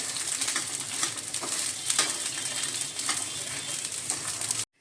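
Fresh field beans (pavta) frying in oil give off a dense, continuous sizzle close by, with light stirring scrapes now and then, before the sound cuts off abruptly at the end.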